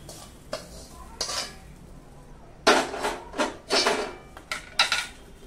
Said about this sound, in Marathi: याच्यामध्ये धणे जिरे आपल्याला भाजून घ्यायचे